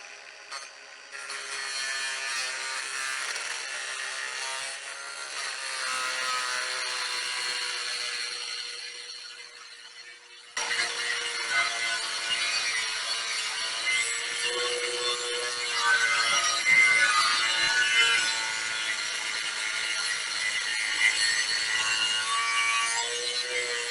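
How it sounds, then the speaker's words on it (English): A zip disc grinds through metal at a 45-degree angle for welding, a loud continuous high whine with a brief dip and restart midway, then steady cutting to the end. "just take a zip disc and cut straight down it"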